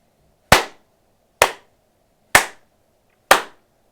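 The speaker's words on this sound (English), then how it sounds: "really loud claps" Four loud, sharp hand claps ring out at an even pace, each standing alone against near silence with a short decay, made to sync multiple cameras.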